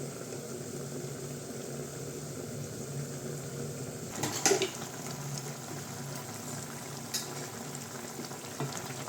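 Garlic chicken frying in a pan, a continuous close sizzle and bubbling with a brief stir or utensil clatter partway through.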